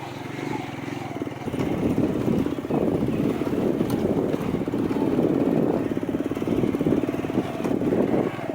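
A motorcycle rides along through a village in Punjab, its engine a steady, rattling putter close by that continues throughout, with people talking over it.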